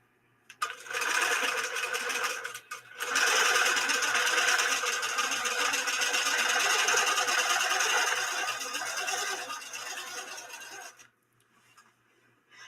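A sewing machine stitching down fabric runs in a steady, close, continuous whir for about eight seconds after a brief start-stop, then slows and trails off near the end with no talking.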